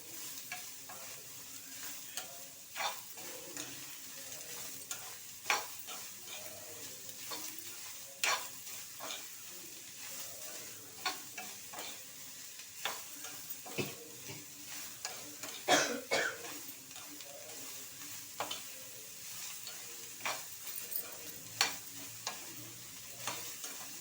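Onion chutney ingredients fry in a pan while a spatula stirs them, producing a soft continuous sizzle broken by many irregular scraping taps and knocks, close by and with no voices.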